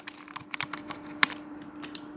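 Computer keyboard being typed on: a sparse, uneven series of soft key clicks with one sharper tap, close and fairly quiet over a faint steady hum, no speech.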